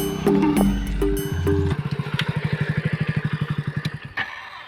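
Motorcycle engine running nearby in a village, a steady idling putter that settles into a rapid even pulsing, with some clattering and other noises mixed in early on.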